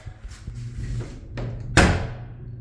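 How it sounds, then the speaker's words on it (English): A bathroom door in a residential unit swings shut and latches with a sharp, close thud, following softer handling knocks and a low background hum. "The door secures."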